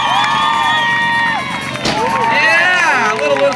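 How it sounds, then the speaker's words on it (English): Crowd cheering and clapping at an outdoor GT BMX demo in Jupiter, Florida for a rider's jump, with excited shouts and whoops running steadily over continuous crowd noise. "give a round of applause for Dave Rumlow"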